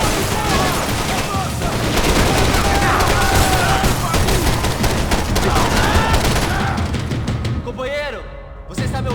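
Gunfire in the video game Max Payne 3, dense and continuous for most of the stretch, loud and close, with game voices shouting over the shooting before it thins out near the end.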